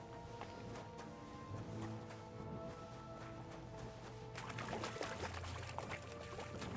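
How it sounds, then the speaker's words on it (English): Horse wading through water in the video game Kingdom Come Deliverance 2, a steady pouring, sloshing splash that runs on throughout with a busier burst of splashing near the end, over game music. "Take your time going through the water, Henry."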